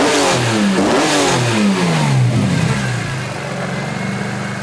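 A warm, tuned car engine, a 2.8 in a compact, revs hard in repeated rising and falling bursts close by, then settles into a rough idle.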